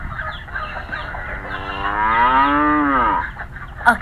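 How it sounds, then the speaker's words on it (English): A cow lets out one long, deep moo that swells and then falls away, with soft farm sounds around it and a brief click at the end. "A cow."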